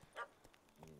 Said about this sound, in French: Il aboie, il grogne.